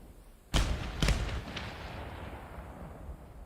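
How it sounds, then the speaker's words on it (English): Gunfire in the combat flight simulator DCS: two heavy booming shots half a second apart, followed by a fainter third report and a long rumbling decay into low background noise. "Somebody's shooting."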